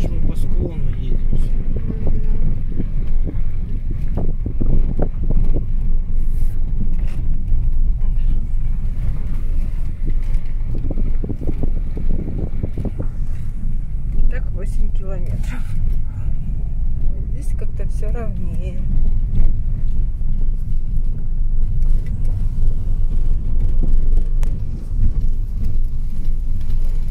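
A car crawls along a slope on a rough, bad dirt road toward a marble cave. A loud, steady engine and tyre rumble carries jolts and knocks from the bumpy track, with wind buffeting and people talking over it throughout.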